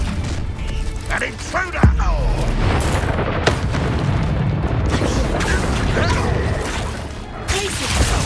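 Bombarda blasting spell from Hogwarts Legacy: a heavy boom bursts out near the two-second mark over a constant rumble of combat noise, with voices calling out spells and shouting through the whole fight.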